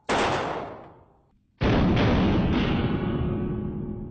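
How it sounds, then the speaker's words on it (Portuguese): Two loud, sharp AK-47 rifle shots, 7.62x39mm, the first ringing out and decaying, the second followed by a long echoing rumble; no voices. "a Kalashnikov pode disparar um único tiro ou entrar em modo metralhadora"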